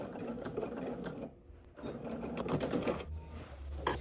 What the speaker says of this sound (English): we're top stitching this all into place at a 1/4 of an inch